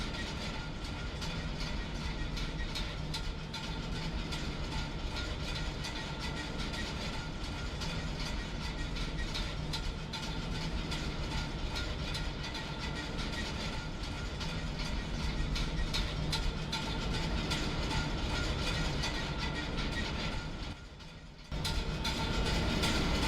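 Amtrak train running in the Trainz railway simulator game: a steady, dense rumble and rolling rail noise with faint clicking that continues for over twenty seconds, briefly dropping out near the end.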